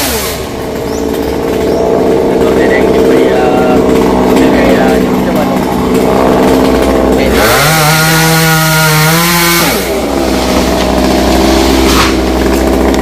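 Chainsaw cutting Xà Cừ tree branches leaning over a house roof, running loudly and continuously with a surge of higher revving as it bites into the wood, then settling back to idle.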